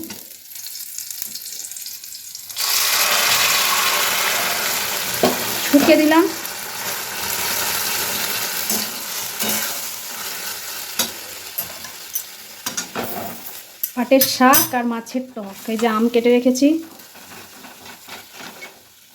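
Boiled jute greens hit hot garlic oil with panch phoron and chili, a steady close sizzle that starts abruptly after a quiet moment and runs throughout, with scattered stirring clicks and a couple of brief voice-like sounds.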